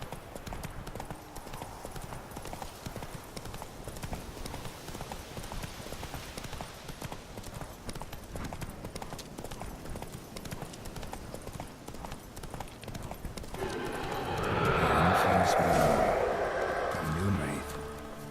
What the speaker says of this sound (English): let's head off, Roach. Giddy up